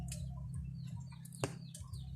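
Chickens cluck and chirp softly outdoors at dusk while being called home, with short scattered calls and one sharper squawk.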